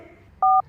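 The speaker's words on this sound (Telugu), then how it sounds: "నువ్వు ఫోన్ చేయరా సార్" A single short telephone dialing tone, a clean electronic beep heard alone over faint room hiss.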